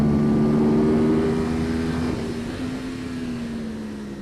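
A motorcycle on the Thunderhill race track under power, its sustained engine whine holding loud and near, then easing gradually under steady wind rush with no talking.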